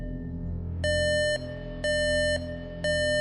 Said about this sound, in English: The beeps were more rhythmic and shorter than usual.